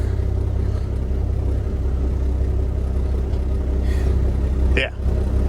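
A cabover truck with a 9-speed gearbox rumbles along from inside the cab, its engine drone steady and loud as the driver shifts up to sixth, with a brief dip and a short mechanical clunk near the end.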